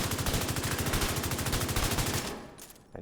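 Rapid, steady automatic fire from the Bighorn rifle in The Division 2, loud and close, a fast even stream of shots that cuts off near the end.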